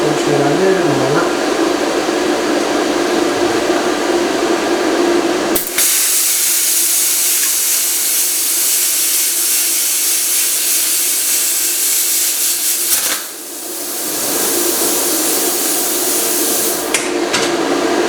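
A plasma cutter slicing through metal, a loud steady hiss of rushing air and arc that runs continuously for many seconds, stops briefly, then resumes, heard close with no talking.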